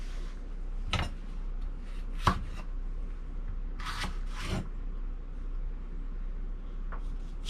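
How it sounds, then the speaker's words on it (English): A whole jalapeno being chopped on a cutting board, a handful of sharp knife strikes spaced irregularly with a quick double chop in the middle, close and clear over a low steady hum. "I'm going to chop a whole jalapeno in there"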